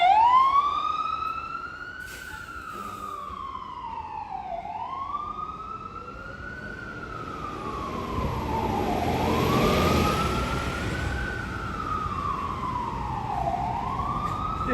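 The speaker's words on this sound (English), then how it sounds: "it's the ambulance for this fire department." A fire department ambulance siren wails on a New York City street, sweeping up and down in long repeating cycles, loud and steady for the whole stretch, with traffic rumble beneath and no talk.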